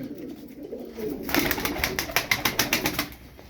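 Tumbler pigeons in a loft give off a close burst of rapid, rhythmic wing claps and flutter that starts suddenly and fades out, with no talking.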